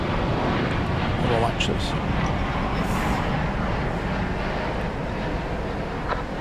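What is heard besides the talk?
airplane at DFW Airport at night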